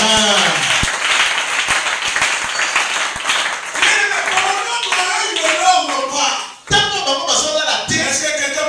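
A church congregation claps and cheers for the king, sharp rhythmic handclaps forming loud sustained applause, with voices mixed in and a brief dip near the end before the clapping resumes.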